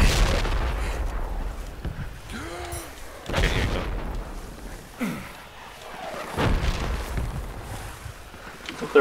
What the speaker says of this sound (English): They're walking on the mortars.